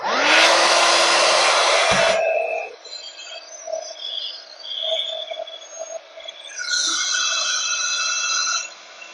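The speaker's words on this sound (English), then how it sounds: "we'll hit that with the heat embosser" A heat embossing tool blows hot air over a handmade card panel, a loud steady broadband whoosh lasting about two seconds before cutting off, followed by quieter room sounds.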